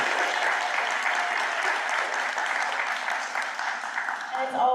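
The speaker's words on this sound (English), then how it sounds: "Big clap." Sustained applause from a large crowd at a school board meeting, dense and even, carrying on for several seconds without letting up.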